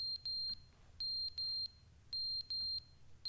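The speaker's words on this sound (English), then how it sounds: "It's a beeping." Electronic beeping alarm signal in The Stanley Parable: Ultra Deluxe video game, short high beeps sounding in pairs with brief gaps, clear but moderately quiet over a low hum, no talk.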